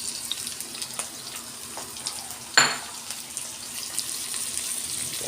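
Tomatoes sautéing with onion in a pan give a steady low sizzle and faint stirring scrapes, with one sharp utensil clatter midway. There is no talking.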